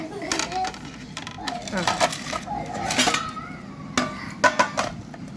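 New steel plates clink and clatter together as they are handled nearby, with bright metallic knocks and rattles coming in bursts while people talk in the background.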